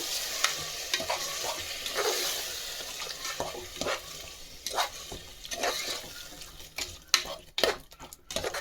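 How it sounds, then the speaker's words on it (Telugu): A spoon stirs yogurt through a chicken biryani mixture in a pot, giving repeated wet scraping strokes close by over a soft sizzle, with no voices. "పెరుగు యాడ్ చేసుకొని ఫుల్ కలుపుకుంటాము"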